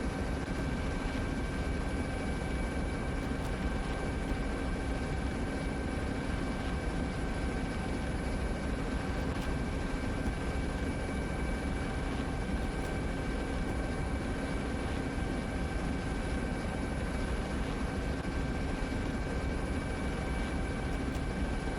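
A helicopter's motors run steadily at close range, a constant broadband roar with sustained engine tones that holds unchanged from start to finish, with no talk over it.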